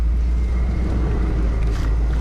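A car engine idling with a steady, deep rumble, close and loud throughout.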